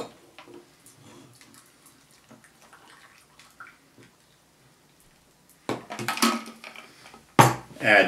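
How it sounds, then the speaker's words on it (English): An Orange Whip cocktail strained from a shaker into a glass of crushed ice: quiet trickling at first, then louder clinking of ice and metal against glass in short close bursts near the end. "Strain it into a glass with crushed ice."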